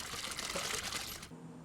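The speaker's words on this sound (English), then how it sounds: "the first ritual of the morning is the drawing of fresh water from the well" Fresh well water is drawn and poured for making dashi, a bright splashing, trickling rush that runs steadily for about a second before cutting off abruptly, leaving quiet room tone.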